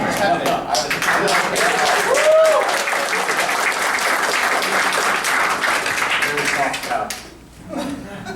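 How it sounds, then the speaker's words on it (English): Thunderous applause from a press conference crowd, loud and sustained many-handed clapping with cheers and whoops mixed in, dipping briefly near the end before picking up again. "I want Kevin to walk back into the thunderous applause he deserves"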